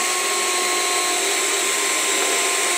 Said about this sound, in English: And I'm going to drill a hole